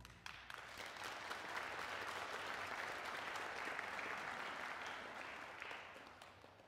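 Steady audience applause at an orchestra concert, a dense even patter of many hands clapping that swells early and holds for several seconds before easing slightly at the end, with no voices over it.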